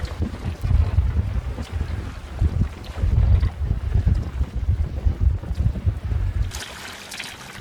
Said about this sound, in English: it's been blowing too hard to get ashore.